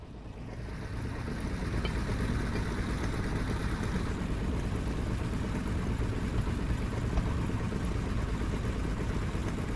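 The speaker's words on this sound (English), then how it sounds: "Engine running." Engine in the video game I Expect You To Die starting up and then running as a steady, loud mechanical drone that holds evenly for several seconds, with no talking over it.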